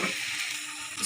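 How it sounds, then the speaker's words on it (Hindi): Karela and kaleji pota fry in a pan with a continuous, moderately loud sizzle and hiss over the brief moment, with no talking. "इसको 2 मिनट अच्छे तरीके से भूनेंगे"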